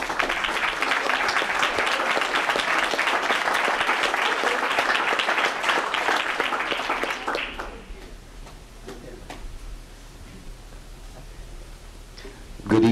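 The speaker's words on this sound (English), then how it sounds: "thank you for the applause" Audience applause at a school district board of directors meeting, loud dense clapping for about seven seconds that then fades to scattered claps, with a voice starting at the end.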